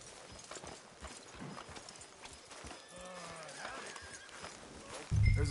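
Horse hooves clip-clop at a walking pace in Red Dead Redemption 2, with characters talking over the steady hoofbeats.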